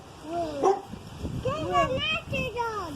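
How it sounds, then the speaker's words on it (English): A dog barks and yips a few times at middle distance, short sharp calls with whiny, pitched edges, mixed in with people talking nearby. "Hello, dog that likes to bark early in the morning and late at night."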